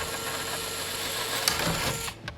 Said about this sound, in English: I'm going to take an 1/8 inch drill bit in my power driver and drill a hole